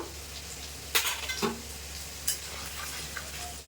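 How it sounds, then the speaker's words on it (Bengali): Green chilies fry in oil with turmeric and Kashmiri chili powder in a pan for Bengali mustard hilsa: a low, steady sizzle broken by a few sharp spoon scrapes and clinks against the pan. "কাঁচা লঙ্কা একটু ভাজা ভাজা হয়ে গেছে এবার দিয়ে দেব হলুদ গুঁড়ো"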